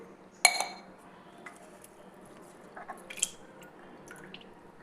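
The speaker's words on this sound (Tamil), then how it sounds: "நாம் இந்த சீரக சம்பா அரிசியை வந்து நல்லா வாஷ் பண்ணி எடுக்கணுங்க." Seeraga samba rice being washed in water in a kitchen, with a sharp clink of a vessel near the start followed by soft intermittent splashes, drips and light clatter, quiet throughout with no talking.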